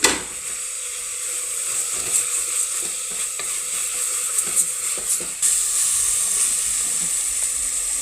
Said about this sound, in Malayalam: വെളുത്തുള്ളി ഇതും കൂടി നല്ലോണം ഇളക്കി